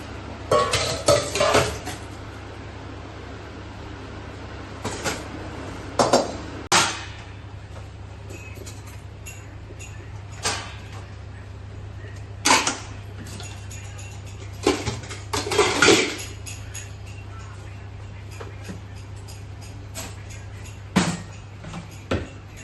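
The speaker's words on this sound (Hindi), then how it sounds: "किचन में लगाऊंगी बर्तन" Metal pots and utensils clank and rattle in short, sharp bursts as they are set out in a home kitchen, scattered clatters separated by quieter stretches over a steady low hum.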